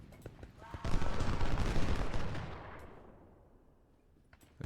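Musket volleys and cannon fire in Ultimate General: Civil War during the Battle of Fredericksburg, with a loud burst of massed gunfire starting abruptly, roaring for about two seconds, then rolling away into a fading rumble.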